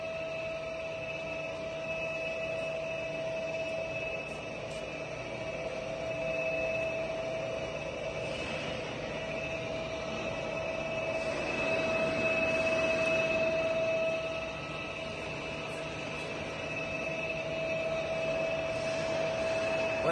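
A Giana heavy-duty Italian lathe with a 2000 mm capacity runs at its minimum 6 rpm spindle speed, giving a steady mechanical hum with high tonal whine and a faint rise in noise midway.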